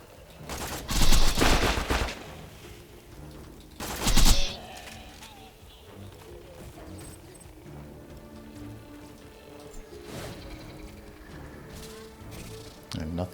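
SMG fire in the Borderlands video game: two short, loud bursts of rapid shots early on, then a fainter burst later over busy game sounds and music.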